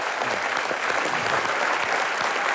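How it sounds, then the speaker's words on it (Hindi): A studio audience at a comedy show claps loudly and steadily, a dense, even wash of applause filling the whole short stretch with no voices over it. "जोरदार तालियां प्रियंका की मम्मी जी के लिए"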